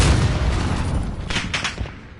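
Grenade blast in the video game Warzone, a loud booming burst at the start that rolls into rumbling gunfire-like reports, with sharper cracks near the end.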